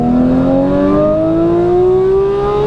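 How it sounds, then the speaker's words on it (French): A Porsche 911 GT3 with its sport exhaust open revs steadily upward in a smooth, rising howl, loud and close, with no talk over it. "on va passer en échappement sport. PDK sport, paf, ça rétrograde"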